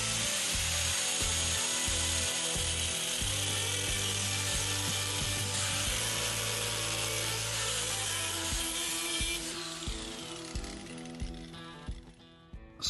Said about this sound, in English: I think first I'm gonna grind a slot along that line